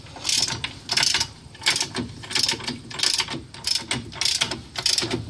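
Ratchet wrench tightening the hub nut on a 2006 Chevrolet Uplander to draw the axle in, about eight sharp, close clicking bursts in a steady rhythm, with no talking.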